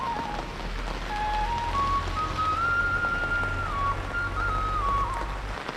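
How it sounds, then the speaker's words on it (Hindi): Steady, dense monsoon rain hiss pours down in the mountains throughout, with a faint whistling tone drifting above it and a low rumble underneath. "बारिश काफ़ी तेज़ हो रही है"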